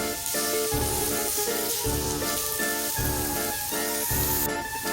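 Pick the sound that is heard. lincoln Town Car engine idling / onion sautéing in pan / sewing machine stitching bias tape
onion sautéing in pan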